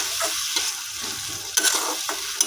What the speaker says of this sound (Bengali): এখন পেঁয়াজের সঙ্গে টমেটোটাকেও ভালো করে মিশিয়ে ভেজে নিচ্ছি